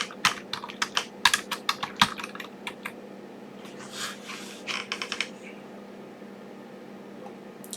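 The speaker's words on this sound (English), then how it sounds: "And then you type in the name." A player name is tapped out on a computer keyboard in quick bursts of close, crisp keystrokes, then a pause and a few more taps over a faint hum.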